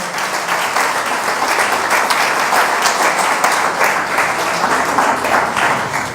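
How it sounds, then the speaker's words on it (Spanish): A church congregation bursts into steady, sustained applause during a Spanish-language worship service, a dense wash of clapping across the whole stretch with no break. "Démosle un aplauso, por favor."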